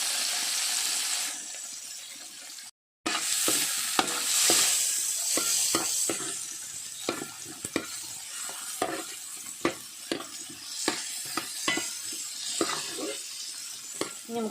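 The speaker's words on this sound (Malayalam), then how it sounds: "ഉള്ളി, ഇഞ്ചി, വെളുത്തുള്ളി, പച്ചമുളക് വഴണ്ടി. നമുക്കിനി കുറച്ച് മാങ്ങ ഇട്ട് കൊടുക്കാം കേട്ടോ." Onion, ginger, garlic and green chilli being stirred in a hot pan with mango for a Kerala-style crab curry, with a steady sizzle and repeated scraping stirs close up, briefly cut by a moment of silence.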